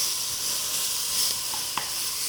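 Bacon sizzling in a hot pan, a bright continuous hiss and crackle up close with a couple of small clinks near the end.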